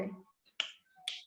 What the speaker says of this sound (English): For syllables, you can snap because it's smaller